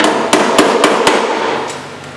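A hammer strikes a metal car body panel during bodywork on the back of a Camaro, giving five sharp, loud ringing blows in a steady rhythm, followed by two fainter taps.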